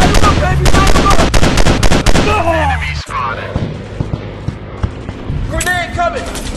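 Rapid automatic gunfire in a robot first-person shooter game on Android, loud bursts of repeated shots in quick succession, with a voice shouting over the shooting and game effects.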